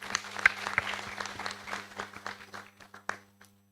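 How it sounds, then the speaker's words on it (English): Applause from a lecture audience at a memorial law lecture, a dense round of clapping that peaks early then thins into scattered claps and fades out near the end, with a low steady hum beneath. "And you too deserve a round of applause."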